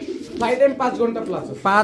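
A red-necked Khulna pigeon coos in a loft at a pigeon market, with a few close, throaty rolling coos in quick succession.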